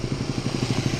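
A cruiser motorcycle, a Kawasaki Vulcan, runs quietly nearby, a soft, steady low engine putter with an even pulsing rhythm and no voices.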